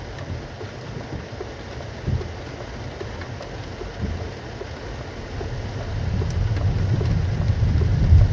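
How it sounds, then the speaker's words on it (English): Rain falls steadily on a Citroen C5X while it is being driven, heard from inside as a continuous wash of drumming and hiss over low road rumble, growing heavier toward the end. "just with the rain"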